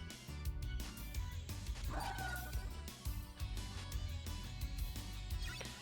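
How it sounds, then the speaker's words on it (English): A dog in a video game barks and yips repeatedly in quick bursts over dense game music and effects, loud and constant throughout, with a voice talking at times. "I want to kill this dog first."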